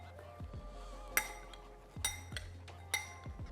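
Ceramic or glass clinks as dried fruit is stirred in a bowl for gluten-free spiced hot cross buns, three sharp knocks spaced about a second apart, close and fairly quiet.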